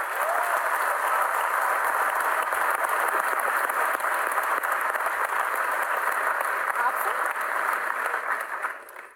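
Large arena audience at a Dota 2 International 2018 event applauding and cheering in a dense, sustained roar that holds steady for several seconds before fading at the end.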